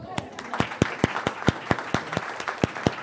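Sparse, rhythmic clapping from a small audience at a dance discussion panel, sharp individual claps landing roughly every quarter second, close and fairly loud, with faint voices behind.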